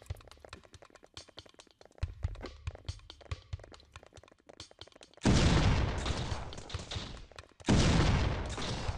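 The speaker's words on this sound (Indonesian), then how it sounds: "Kita pakai shotgun coy." Shotgun fire in the pixel-art shooter game Survivalism: rapid, dense bursts of clicky gunfire followed by two loud, sustained blasts that roar and fade, with no talk over them.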